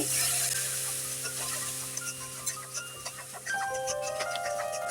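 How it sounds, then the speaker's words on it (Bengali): Spice paste for a Bengali pabda fish curry frying in oil in a pan, with a soft steady sizzle and occasional scraping stirs and small pops, fairly quiet and close. "মশলাটাকে ভালো করে কষিয়ে নিচ্ছি"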